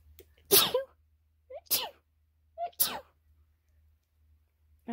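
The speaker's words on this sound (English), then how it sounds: "I'm going to sneeze, guys." Three sharp sneezes close to the mic, each a sudden burst followed by silence, spaced about a second apart.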